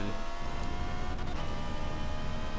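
Engine of a Jaguar XK GT3 race car in Forza 7, a rough, buzzing roar sustained at constant level with dense harmonics throughout.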